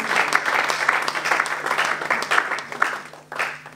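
A church congregation applauding the Lord during a Sunday service, a burst of crowd clapping in uneven waves that swells and dips, with a brief lull before a final surge, moderately close.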